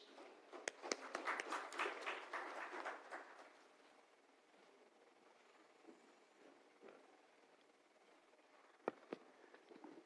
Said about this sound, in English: with a big round of applause, let's welcome architect Mohammad Amin Nair on stage